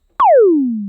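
A single synthetic tone that starts high and sweeps steeply down to a low pitch, a zappy laser-like kick that sustains loudly and clean.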